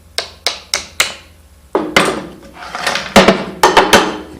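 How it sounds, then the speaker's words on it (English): A small mallet taps a wooden dowel jig in a woodworking demo: several sharp, close knocks in quick succession, then a denser burst of rattling clatter as parts shift and settle. "And I always have my little mallet."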